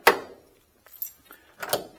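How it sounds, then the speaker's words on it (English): Car door lock on a 1967 Impala SS, a sharp click followed by a few softer mechanical clunks and a second click, close and brief with no talk. "Door locks."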